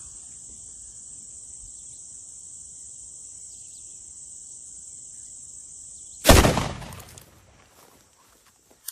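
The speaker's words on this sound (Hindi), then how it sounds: "एक फायर हमने किया।" A single sharp gunshot from an M4 .223 rifle at an outdoor range cracks loudly and decays into a short echo, preceded by steady insect chirping that continues faintly afterward.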